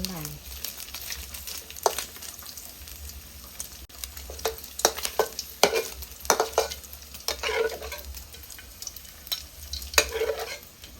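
Fatty pork belly frying and sizzling in a pan while being stirred and scraped, with steady crackle and irregular clanking stirs close up.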